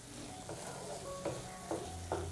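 Green chillies being stirred in a frying pan for a Kerala-style tomato side dish, with a steady soft sizzle and a few sharp scraping clicks of the spoon against the pan, no talking.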